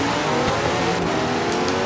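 A Chevrolet Corvette engine in Forza Horizon 3 revs hard and accelerates under steady, loud throttle, with a dense continuous roar, tire noise and no talk.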